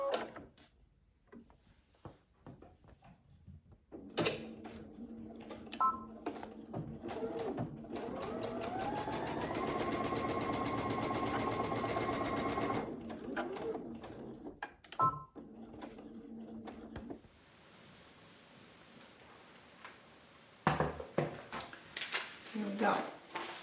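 A sewing machine stitches a foundation paper piecing seam in bursts, with short back-stitching runs at each end around a longer steady run in the middle, close and fairly quiet, with fabric handling and small clicks between runs.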